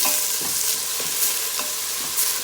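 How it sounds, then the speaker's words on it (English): Seasonings, green onions and a small hot pepper being stirred together in a pot of green papaya stew with shrimp, a steady close sizzle with soft scraping strokes repeating every half second or so. "You want to mix everything in."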